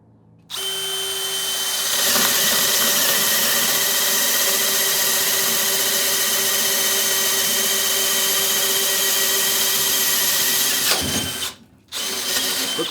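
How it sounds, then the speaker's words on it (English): A DeWalt hammer drill runs at speed 1 boring steadily for about ten seconds, a loud continuous whining motor with hammering rattle, then cuts off, briefly restarts and stops. "letting the drill and the bit do all the work"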